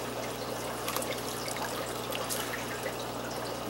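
Water squeezed by hand out of an old, long-used aquarium filter sponge, a steady close trickling and dribbling wash that runs without pause and carries no talk.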